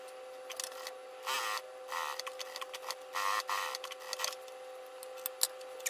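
A sewing machine runs in short bursts while stitching a strap onto a small candy-style mini backpack, the mechanical whirring starting and stopping several times with faint handling clicks between runs.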